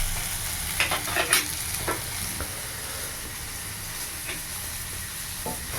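Black gram lentils hitting a hot pan with goat meat, producing a soft steady sizzle and hiss with a few brief stirring scrapes, fairly quiet and close.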